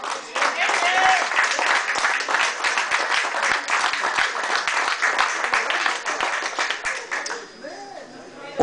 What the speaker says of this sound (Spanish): Ahí está un podio de lujo que requiere el aplauso de todos ustedes